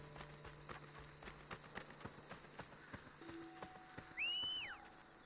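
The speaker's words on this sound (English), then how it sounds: "You can call your horse at any time and it teleports to you." Horse hooves clip-clopping at a quick walk in Assassin's Creed Brotherhood, a faint steady rhythm of light thuds under game ambience, followed by a brief tonal game chime near the end.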